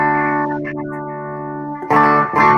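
Electric guitar through an EVH 5150 amp with its boost engaged rings out in sustained, gritty overdriven chords, loud and close, with a fresh pair of strummed attacks near the end and no talking.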